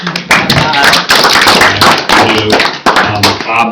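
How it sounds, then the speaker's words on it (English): A small group at a township open space advisory committee meeting gives a short round of applause, a few close, uneven claps mixed with voices talking over them. "Bob deserves a little round of applause"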